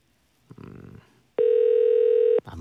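A telephone line during a Korean radio call-in show: a short burst of noise, then one steady electronic ringback tone lasting about a second before it cuts off, loud and clear.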